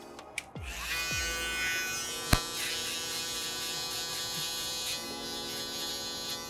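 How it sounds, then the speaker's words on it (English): An electric shaver buzzes close by as it fades the hair during a haircut. It switches on with a sharp click and then hums steadily and evenly, broken by a single brief tap partway through, with no one talking. "We'll get it completely bald with our shaver"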